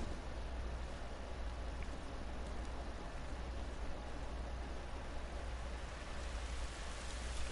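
Steady rain falling in The Last of Us video game, an even continuous hiss with no breaks and no voices.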